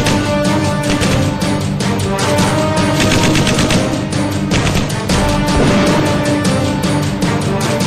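Gunfire across the Line of Control in a border area, rapid bursts of dense cracking shots layered over one another, loud and relentless throughout without pause.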